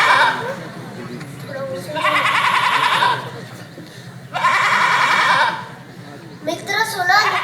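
A goat bleats loudly and repeatedly in long wavering cries at an annual day school function, two extended bleats close up with a shorter one at the end, separated by quieter stretches of background voices.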